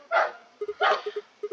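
A dog barks two times, each bark loud and nearby, and quiet clicking or tapping fills the pauses between them.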